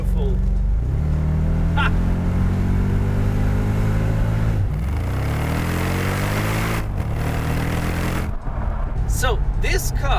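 Mercedes SL55 AMG R230 supercharged grand tourer accelerating hard, a loud close engine roar climbing through the revs with shifts and renewed pulls, and a short exclaimed voice near the end.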